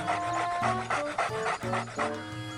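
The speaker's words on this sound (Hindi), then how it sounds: "उन्हें पास में ही एक कुत्ता बंधा हुआ दिखता है।" A dog tied up close by pants in quick, rhythmic bursts of breath, fairly near and clear, with a few short puffs repeating across the moment.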